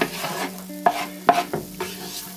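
Red onion hitting a hot pan with curry leaves for a Sri Lankan chicken curry, sizzling and frying with several sharp stirring scrapes and clatters, close and fairly loud, no voices.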